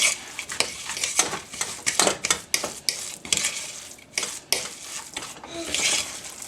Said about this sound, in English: I'm just going to mix that around and make it softened so that I can spread it in the bottom of the pan